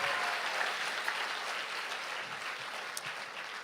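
An audience at a youth camp session applauds, steady close clapping filling the room without a break.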